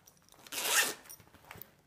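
A zipper is pulled once along the pocket of a jet black, medium-size 1980s leather shoulder bag, giving a short, close, rasping run of about half a second in an otherwise quiet room.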